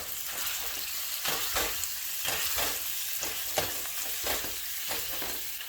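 Meat for burritos fries in a hot pan with a dense, bright sizzle, broken by repeated scraping stirs every second or so, close and fairly loud with no talking.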